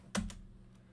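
Brief keystrokes on a computer keyboard while entering router commands, one sharp near tap followed by a softer second tap, then quiet room tone.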